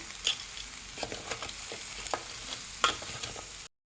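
Food is stirred in a frying pan over a soft sizzle. Several short scraping clinks come at irregular intervals, fairly quiet and close, before the sound cuts off abruptly.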